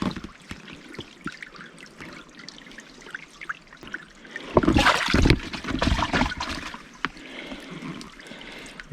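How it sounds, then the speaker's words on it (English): Water bottle being filled from a stream in a remote coastal park, with a steady faint trickle giving way to louder splashing and gurgling midway, close to the listener. "Let's see if I can film myself getting water without dropping the water bottle"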